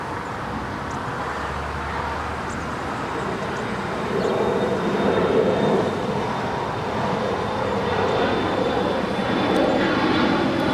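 A Boeing 747 on final approach into LAX makes a steady, broad jet roar that swells partway through and then holds. A faint high engine whine runs across the sound. No one speaks.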